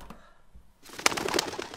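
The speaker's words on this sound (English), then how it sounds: "it's a carrier pigeon" A carrier pigeon lets out a close burst of cooing, throaty calls that follow a quieter stretch with faint room sounds.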